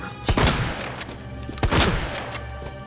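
Two loud shotgun blasts go off about a second apart in Resident Evil 2, each with a sharp low thump and a short decay over a busy game ambience, with no talking.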